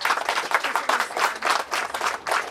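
Audience applause at a Hungarian award ceremony honoring the Ukrainian ambassador: dense, steady clapping from a room of people, continuous and fairly close, with no talk over it.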